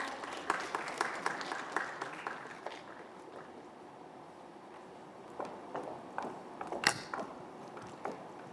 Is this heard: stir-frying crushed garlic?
no